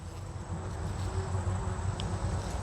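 Steady bee buzzing hums close by in a summer garden without pause, a dense droning layer with no voices over it.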